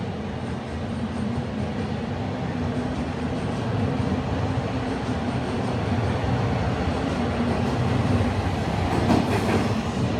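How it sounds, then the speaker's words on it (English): A Toronto TTC out-of-service subway train rumbles steadily through Sheppard West Station at close range, a dense low roar with faint rhythmic wheel clatter and a brief high squeal near the end; no voices. "we got a out of service train here heading to the Wilson Yard"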